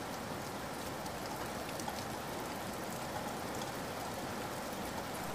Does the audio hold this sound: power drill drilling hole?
no